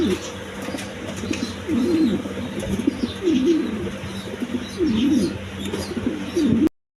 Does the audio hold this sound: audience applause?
no